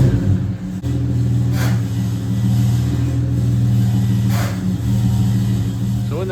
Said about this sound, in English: you can hear the car when Ty's trying to put it into gear